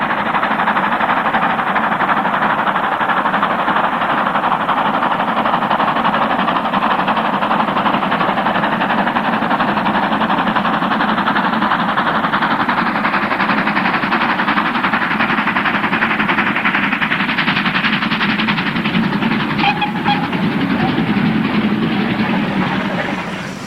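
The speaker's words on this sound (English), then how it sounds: "a rousing performance from the veteran city of Truro as it storms Dainton on a Bristol to Plymouth excursion" The veteran steam locomotive City of Truro storms up Dainton bank on a Bristol to Plymouth excursion, its loud, continuous exhaust roar and working beat holding close and powerful throughout.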